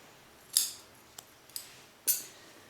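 Scissors snip through crochet yarn in a few sharp, close cuts, two stronger snips framing a couple of lighter clicks, with no talking.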